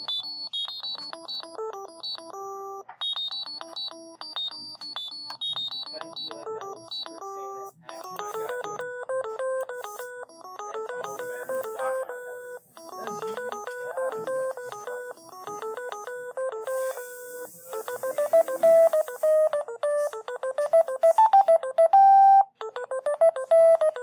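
A VEX Cortex robotics controller plays Beethoven's Fifth as a run of clear electronic beep tones, short melodic notes separated by brief rests, growing somewhat louder toward the end, with no talking.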